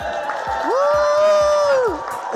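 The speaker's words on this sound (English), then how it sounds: "If everyone could cheer, that'd be great." Crowd cheering and whooping at the Rose of Tralee festival event, a loud sustained swell of voices with a rising shout held for about a second before fading.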